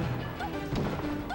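Super Smash Bros. Melee down smash attacks during a tournament broadcast, a loud continuous burst of crashing hit effects with tonal game sounds layered through, dense and close.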